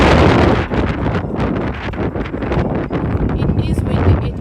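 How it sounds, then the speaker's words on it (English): Cold night wind buffets a microphone somewhere in New York, a steady low rumble with gusty rustling bursts that carries on throughout, with a trace of voice underneath. "it is windy, it is cold"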